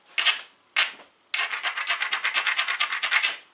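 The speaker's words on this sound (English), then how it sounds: "Grinding the edge really, really well. I'm being aggressive. I'm kind of scraping off to see anything that doesn't want to be there." A flint edge is ground and scraped hard with an abrader in a knapping kit. Two separate rasping strokes come first, then a fast run of close, loud, rhythmic scrapes.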